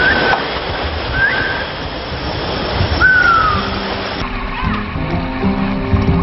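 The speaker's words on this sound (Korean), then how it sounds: "작업 시간이 길어질수록 해녀들의 순빗소리는 바다의 메아리처럼 울려 퍼집니다" Several high, sliding breathing whistles of Korean women divers surfacing ring out one after another over steady surf and wash of open water, each a thin breathy tone fading quickly.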